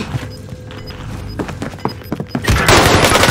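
Rapid bursts of gunfire in Call of Duty Warzone Rebirth, close and loud, with sharp overlapping shots building into a dense, heavy barrage toward the end.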